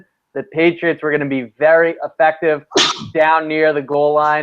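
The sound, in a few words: sneeze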